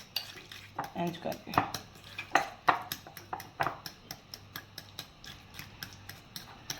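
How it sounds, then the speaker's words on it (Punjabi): Bananas being mashed in a bowl for banana muffins, a close series of repeated clinking, tapping strikes of utensil against dish at an uneven rhythm, with a few brief spoken words. "ਇਹਨੂੰ ਬਿਲਕੁਲ ਅਸੀਂ ਇੰਜ ਮੈਸ਼ ਕਰ ਲੈਣਾ ਕਿ ਕਿਸੇ ਜਗ੍ਹਾ ਤੋਂ ਵੀ ਨਾ ਸਾਬਤ ਨਾ ਰਹੇ"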